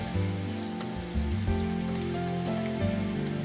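Floured eggplant slices sizzle and crackle steadily in hot oil in a frying pan, a dense close hiss with small pops throughout.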